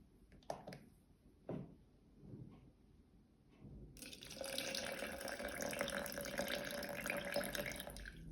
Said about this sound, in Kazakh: 124 грамм енді су қосамыз